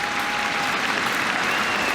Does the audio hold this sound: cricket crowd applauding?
yes